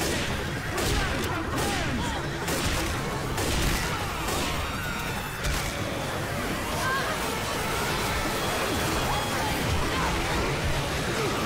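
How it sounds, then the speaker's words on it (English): Gunfire during a Left 4 Dead 2 zombie co-op fight: dense, continuous shooting and chaotic action noise under character voices and shouting. "Watch where you're shooting!"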